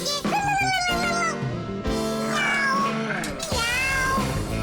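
A cartoon cat meows over and over, loud and close, with drawn-out whining cries that rise and fall over a light music backing.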